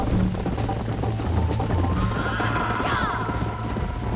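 A horse whinnies in the Western video game Red Dead Redemption, a loud rising neigh over steady galloping clip-clop hoofbeats and background game noise.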